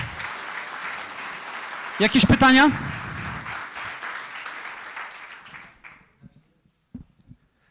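An audience applauds warmly after a talk, a dense burst of clapping that carries on for several seconds and then thins out into scattered claps. A voice speaks briefly partway through.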